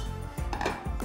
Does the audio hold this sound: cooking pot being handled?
yes